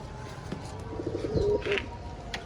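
Pet pigeons in a cage give soft low coos and a few chirps, with a light flutter of wings near the middle, close by with no talk.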